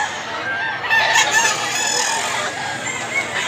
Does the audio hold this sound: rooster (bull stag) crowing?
yes